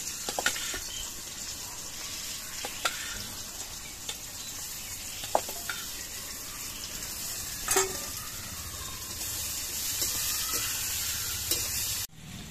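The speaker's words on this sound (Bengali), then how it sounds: "এবার এই তেলের মধ্যে আমি সেদ্ধ করা স্কোয়াশগুলো ভেজে নিচ্ছি" Boiled squash pieces fry in hot oil with a steady crackling sizzle, punctuated by occasional pops and light scraping of a utensil, no talking.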